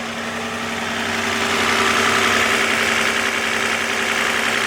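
A 2011 Toyota RAV4 engine idles with oil burning off the exhaust, giving a steady, close mechanical hum with a faint tonal whine and slight knock, swelling a little then holding even, with no talking.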